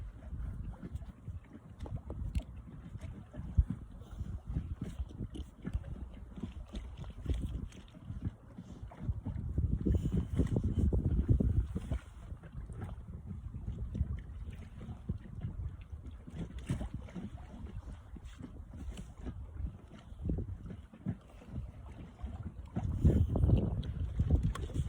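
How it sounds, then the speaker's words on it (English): Wind buffets the microphone in low, uneven gusts that swell and fade, with faint water and boat sounds and no speech, out fishing on Merrill Lake. "Still windy though. I can feel the wind pushing against my back."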